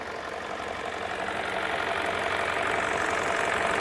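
A Hyundai Sonata engine idles steadily with the air conditioning running, a continuous mid-pitched hum with a faint rough knock that builds slightly and holds level, close to the microphone with no talking.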